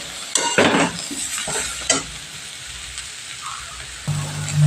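Chopped tomato frying with spices in a pan, a steady sizzle broken by bursts of scraping and stirring from a spoon, with a louder hiss surging near the end.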